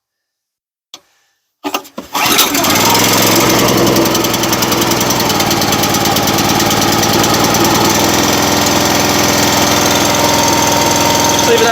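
A Wolfe Ridge 17RS log splitter's small gas engine, with about 6.5 hours on it, gives a couple of short pull attempts, then catches and settles into a loud, steady, slightly knocking idle up close; a brief word is spoken near the start.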